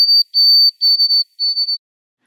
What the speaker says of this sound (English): one species that produces songs that are simple and tonal,